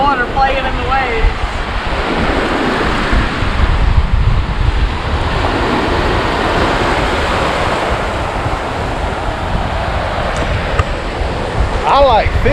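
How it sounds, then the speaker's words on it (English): Ocean surf breaks and washes steadily along the shore at Hunting Island State Park beach, a loud, continuous roar with wind buffeting the microphone throughout. "Playing in the waves."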